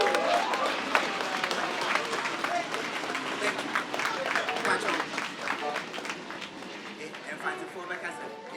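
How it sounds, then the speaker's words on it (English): A large audience at an inspirational talk event gives sustained applause rising into a standing ovation as a guest is welcomed, dense clapping mixed with cheering and crowd voices throughout. "with a round of applause and then with a standing ovation"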